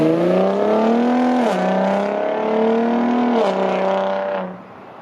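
A Ford F-150 Raptor's V6 engine revs loud and close, rising and falling in two sustained pulls with a brief dip between, before the tone drops away at the end.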